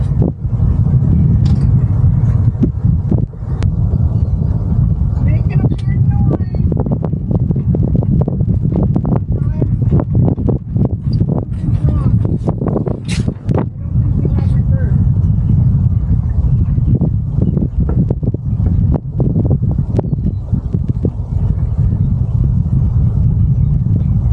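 A boat engine runs in reverse with a crab pot wrapped around its propeller, a loud, continuous low rumble, with wind buffeting the microphone and people talking over it.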